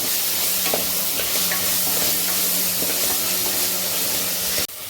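Ginger garlic paste sautés in a hot pan for a mutton paaya, a steady loud sizzle with light stirring scrapes throughout, cutting off abruptly near the end.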